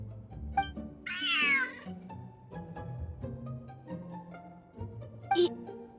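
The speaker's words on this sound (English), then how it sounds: "Whoa, this cat is way bigger than the others." A cat in the Genshin Impact video game gives one clear, drawn-out meow over soft background music, followed by a shorter, fainter mew a few seconds later.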